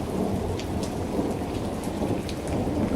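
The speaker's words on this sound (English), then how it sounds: "And then turn the rain down a bit." Steady rain and thunderstorm ambience played back, a dense even hiss of rainfall with deep low rumbling throughout and faint drip accents, no voices.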